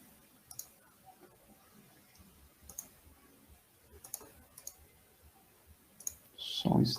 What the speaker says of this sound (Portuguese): Deixa eu só clicar aqui.